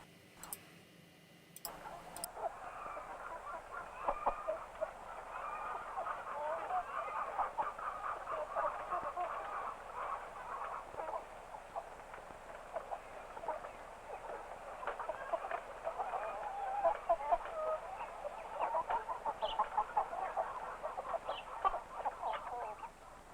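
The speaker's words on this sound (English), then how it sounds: "It is early morning on the farm. The chickens are coming down from their roost." Chickens on a poultry farm in the early morning cluck and murmur together as they come down from the roost, a steady moderate flock chatter with scattered sharper calls, heard alone after a couple of clicks at the start.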